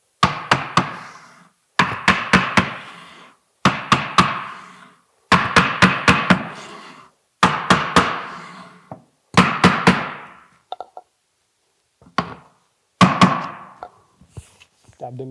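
Metal pins are tapped into a locker with a hammering block, heard as close, sharp knocks in quick clusters of three to five, separated by short pauses, with a few isolated single taps near the end.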